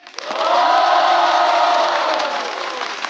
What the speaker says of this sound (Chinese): 让我们再一次掌声欢迎所有嘉宾